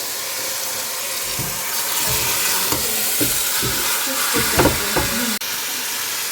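Chicken curry fries in a pan as chili and flour go in, a continuous close sizzle with scraping stir strokes and a few sharper clatters, no voices.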